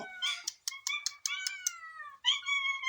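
A cat meows repeatedly, several clear, drawn-out meows in a row with short pauses, close and fairly loud against a quiet background.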